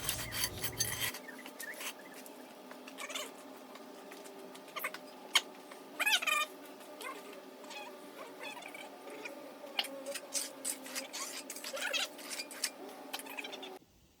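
Faint, steady rasping and scraping as a straight edge is dragged across wet concrete in a countertop mold, with a few sharper scuffs along the way.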